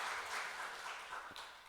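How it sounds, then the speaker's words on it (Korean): A church congregation applauds briefly during a Children's Sunday service, a soft, distant patter of many hands clapping together. "우리 박수로 축하하고 감사하겠습니다"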